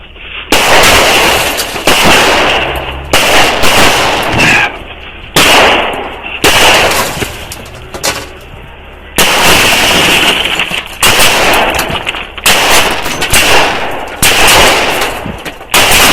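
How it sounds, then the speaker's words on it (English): Loud, close gunfire erupts in repeated bursts of rapid shots during a police shootout in Arkansas, with brief pauses between volleys. "Shots fired! Shots fired!"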